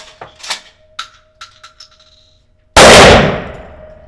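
A pump-action gun is racked with a series of sharp metallic clicks and clacks, then fires one loud, close blast at a target that rings out and fades.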